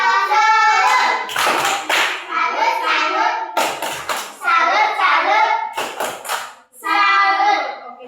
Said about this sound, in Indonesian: Oke, tepuk untuk Yuan dengan